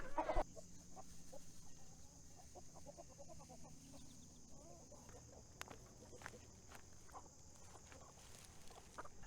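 Backyard chickens cluck and murmur close by, a steady low flock chatter with occasional sharper calls over faint outdoor background.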